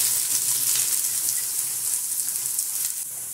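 Garlic cloves and finely chopped onion fry in a few spoonfuls of olive oil in a pan, giving a steady, close, even hiss and sizzle with no talking.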